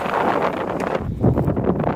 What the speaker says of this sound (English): walking against this wind is no fun